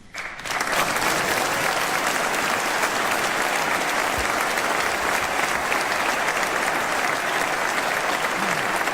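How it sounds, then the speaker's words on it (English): Sustained, dense applause from a large audience fills a legislative chamber during a governor's State of the Commonwealth address in Massachusetts, steady and loud throughout with no pauses. "Are these people like paid to clap?"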